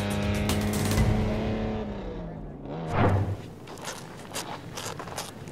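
A land speed racing car on a rookie driver's run roars past with a loud engine note that sweeps down in pitch as it goes by. A fainter rumble and a voice trail off afterward.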